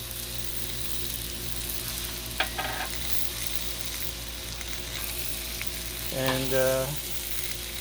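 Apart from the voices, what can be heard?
wieners frying in avocado oil in a pan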